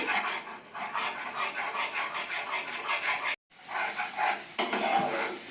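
Spice paste being sautéed in a pan for a paneer dish, a rhythmic scraping stir over a soft sizzle, close and steady, with one brief cut in the middle.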